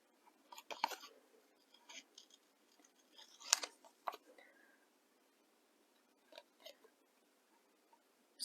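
Scissors snip paper while cutting out a stamped otter shape for a card-making craft, with quiet, irregular close-up snips and pauses between short bursts.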